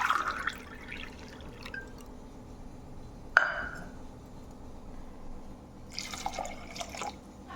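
Water from a glass is poured into a pot of vegetable sambar on the stove, giving brief splashes, drips and a sharp clink partway through, fairly quiet and close, with no one speaking.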